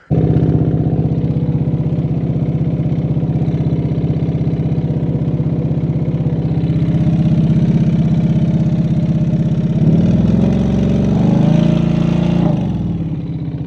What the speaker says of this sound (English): there's a tapping noise coming from like the front cylinder